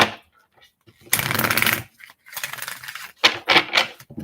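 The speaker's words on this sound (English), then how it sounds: "I'm about to start shuffling the cards for you" Tarot cards being shuffled in close bursts of riffling and sliding, with a short pause between handfuls and no talk over it.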